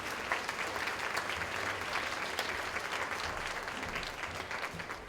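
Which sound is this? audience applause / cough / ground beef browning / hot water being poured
audience applause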